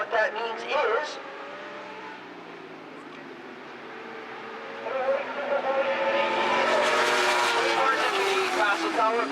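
Superbikes race along a circuit, their engines droning loudly in a rising and falling whine as they pass, with commentary heard throughout.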